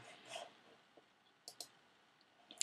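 A few faint computer mouse clicks on a share button, sharp isolated ticks spread across a quiet background.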